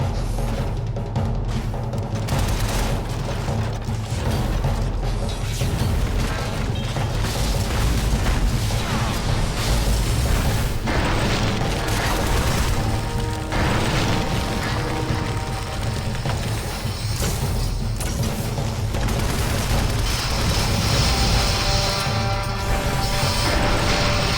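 Booming blasts and crashing impacts from grenades in the action game Shadow Complex Remastered, dense and continuous over a layered game soundtrack with no pauses.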